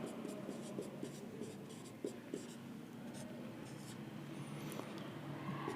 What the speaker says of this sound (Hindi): तो मैं लिख देता हूं